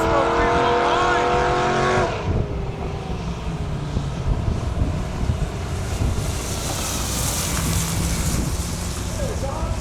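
A Duramax diesel-powered Colorado drag racing truck roars off the line at a drag strip, a loud rising engine snarl that fades into a broad rumbling rush with wind buffeting the microphone and voices talking over it.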